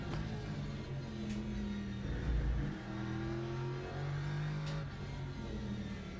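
A race car engine in the Le Mans Ultimate sim racing game, revving hard at high speed with sweeping pitch changes through gear shifts, steady and loud throughout with no voices.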